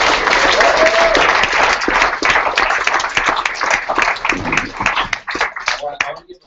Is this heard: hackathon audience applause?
yes